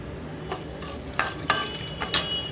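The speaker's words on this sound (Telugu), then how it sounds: "ఆయిల్ వేసుకున్నాను. మినపప్పు అయితే వేస్తున్నాను తాలింపుకి." Urad dal hits hot oil for a South Indian tempering and sizzles steadily, with a few sharp stirring scrapes of a spoon against the pan and no talking.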